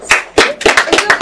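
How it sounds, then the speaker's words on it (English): Sharp hand claps from a small audience at a mathematics event, about half a dozen uneven, closely spaced claps over a moment, fairly loud and near, with no voices. "Let's give them a big round of applause."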